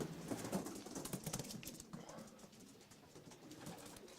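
Racing pigeons coo softly on a city rooftop in Casablanca, low repeated calls heard faintly at a distance with light rustling and no talk.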